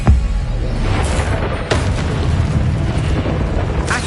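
Spells cast in a Hogwarts video game burst out as loud booming blasts over a dense rumbling background, with sharp impacts near 1 and 1.7 seconds and another at the end.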